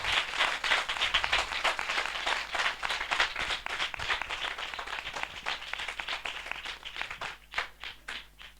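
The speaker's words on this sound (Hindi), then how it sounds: "जोरदार तालियां।" A congregation at a spiritual revival assembly bursts into loud, sustained applause: dense, steady clapping from many hands that continues for several seconds and thins toward the end.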